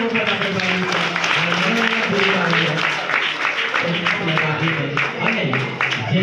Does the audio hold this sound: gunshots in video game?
no